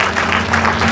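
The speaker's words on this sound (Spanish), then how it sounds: "Aplaude fuerte" Brief, loud, dense applause rises from a congregation during a sermon on the resurrection of Jesus, with a faint steady hum underneath.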